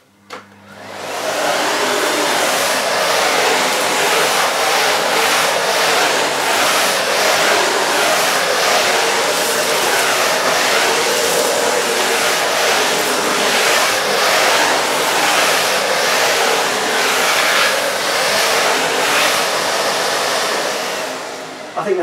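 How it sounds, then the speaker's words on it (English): A Miele Complete C1 Powerline Cat & Dog vacuum cleaner, set two notches up to its rug setting, runs as a loud, constant close whoosh for about twenty seconds with no talking. "I'm going to try on the rug setting, which is two notches up, see how it copes on that setting."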